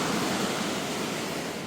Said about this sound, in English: You had a waterfall rain down on you.